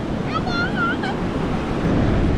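Ocean waves break on Vayari beach in Malvan on the Konkan coast, a continuous broad roar of surf with wind buffeting the microphone and a few brief high chirping tones early on.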